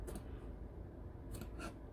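Scissors snip V notches into the curved collar edge of interfaced hanbok fabric: a few quick, crisp cuts at the start, then two more near the end. The cuts are close and fairly quiet over a faint room hiss.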